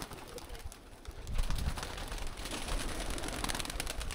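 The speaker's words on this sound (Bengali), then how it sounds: "এগুলো থেকে কবুতর বের করেন" Pigeons in a loft coo softly and repeatedly, their low burbling calls layered over faint background rustle and flutter.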